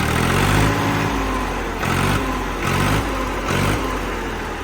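A Ford 3600 tractor engine revs hard close by in repeated bursts, its throaty roar rising and easing back to a rumbling idle several times.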